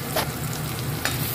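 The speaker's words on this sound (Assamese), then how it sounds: "কেৰাহীত এইফালে সেই মাছখিনি কাঢ়ি পিনাই এতিয়া আদা নহৰুখিনি দি দিছোঁ" Fish sizzling in a hot wok with ginger and garlic, a short, steady hiss of frying oil close by with a couple of brief crackling bursts.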